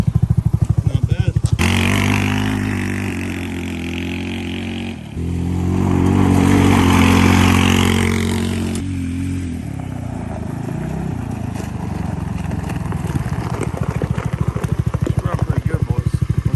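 A Polaris Ace 150 youth vehicle's small engine runs and revs close by for a long stretch, rough and loud, with rattling and pops as it idles.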